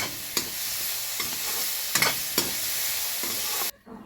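Tomatoes with salt fry in a pan for paneer butter masala, giving a steady loud sizzle with several sharp stirring scrapes, ending abruptly.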